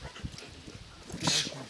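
A 30-kilo female dog whimpers while being lifted by her hind legs, a brief thin whine standing out near the end over soft rustling and handling noise.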